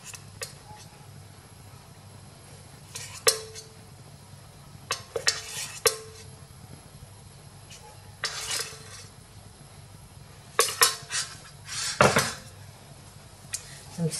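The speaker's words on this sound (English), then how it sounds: "I'm just gonna mix it again." Milk powder stirred into milk in a mug, a spoon scraping and clinking against the sides in irregular bursts separated by quiet gaps, close and moderately loud.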